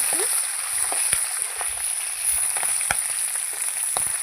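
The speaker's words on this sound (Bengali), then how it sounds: "একটু মাথাটা আমি লাল লাল করে ভেজে নেব আর একটু ভাজা হবে" A bhetki fish head fries in oil in a pan, a steady close hiss of sizzling broken by scattered sharp pops and spatters.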